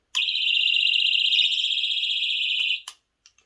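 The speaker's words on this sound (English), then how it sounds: "So it will sound an alarm and it'll flash a light" Personal safety alarm clipped to a backpack shrieking a loud, piercing, pulsing high tone for about two and a half seconds before cutting off, followed by a couple of faint clicks.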